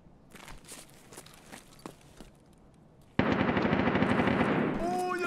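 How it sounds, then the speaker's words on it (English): Automatic gunfire erupts in the Escape From Tarkov video game, a loud rapid burst that starts abruptly and runs to the end after quieter footsteps and scattered shots. "That's the same gun that we heard."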